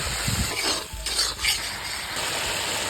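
Whole cumin, onion and ground spices sizzle in oil left over from frying potatoes, a dense close hiss broken by a few stirring scrapes against the pan.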